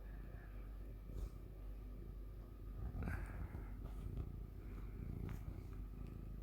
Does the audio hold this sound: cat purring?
yes